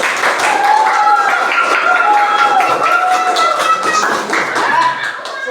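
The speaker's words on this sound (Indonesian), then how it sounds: "Tepuk tangan untuk kelompok 2." Applause for a student group in an Indonesian teacher-training class at IAIN Ambon: steady hand clapping from a room of people, with voices cheering and calling out over it, continuous for the whole stretch.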